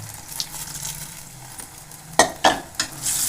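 Spicy red kara chutney being mixed in a pan, a low sizzle under scraping stirs, ending in a quick run of three louder spoon scrapes against the pan; no one speaks.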